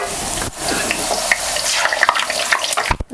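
Kadakani, a crisp Maharashtrian fried dough snack, frying in hot oil in a home kitchen, giving a steady close bubbling sizzle with scattered crackles and pops throughout, a brief dip near the end.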